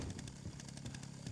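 A chainsaw engine buzz from the video game Resident Evil Requiem drones steadily in a hospital, its rough motor rattle pulsing slightly throughout the short stretch.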